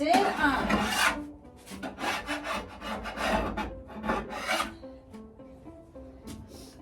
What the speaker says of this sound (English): did start sanding the drawers, and the drawers are not real wood